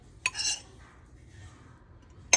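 A metal spoon works through two cans of flaked tuna, giving a sharp clink, a short scraping rustle, then another bright clink against the tin near the end, close and otherwise quiet.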